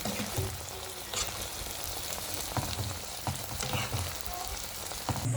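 Sautéed mushrooms with corn and string beans sizzle in a pan while being stirred, a steady close frying hiss broken by soft scraping and clinks of the utensil.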